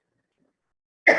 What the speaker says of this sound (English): I'm sorry for this cough because I have a throat infection.